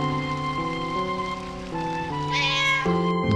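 A cat meows once in Final Fantasy IX, a bright, clear call rising over sustained game music that plays throughout.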